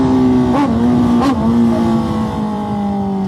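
Motorcycle engine revving hard during a police chase, a loud steady drone with two sharp rev spikes as gears change, close and continuous with no talk over it.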